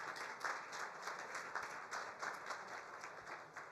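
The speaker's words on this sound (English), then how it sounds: "Give them a round of applause." Conference audience applause fills a hall as a former Michigan governor is introduced, a sustained patter of many hands at moderate, even loudness with no talk over it.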